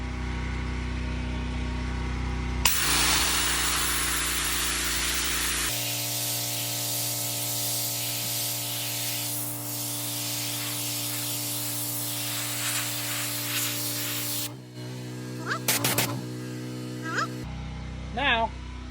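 A Predator 3200 PSI gas pressure washer blasts concrete through a green nozzle, its loud hissing spray over the steady drone of the engine, stopping near the end, where a person's voice briefly comes through.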